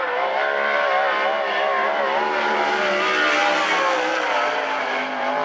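A sprint car engine screams through a qualifying run for car number 91 at the Central Washington State Fair Western Sprint Tour, a loud, sustained high-pitched roar with rising and falling pitch as the car circles the track.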